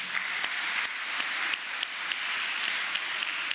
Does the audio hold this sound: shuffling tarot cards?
no